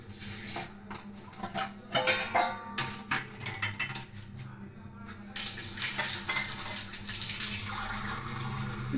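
Water runs from a kitchen tap and is poured while measuring it out for tea, with clinks of pots and utensils early on, then a steady, close stream in the second half.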